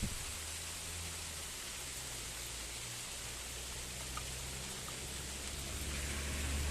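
Heavy rain pouring steadily, a dense unbroken hiss with a low rumble underneath, loud and constant throughout.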